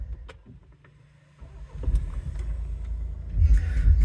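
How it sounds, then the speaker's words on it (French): A Renault Megane 1.6 dCi 165 hp GT diesel is started from inside the car, a quiet cabin followed by a low rumbling rise as the engine catches and settles into a loud idle. "On va démarrer le véhicule."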